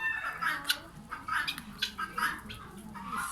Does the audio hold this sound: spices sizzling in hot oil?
no